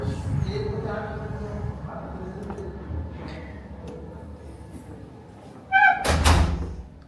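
Someone knocks on a hotel room door in Udaipur. After a stretch of quieter room noise with voices, there are a few loud, heavy knocks close by.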